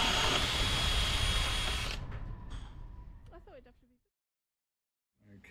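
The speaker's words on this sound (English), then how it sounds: "Finally, we drill the inlet hole for the new water maker," A power drill bores an inlet hole through a boat hull for a water maker, loud and close for about two seconds before spinning down and falling silent.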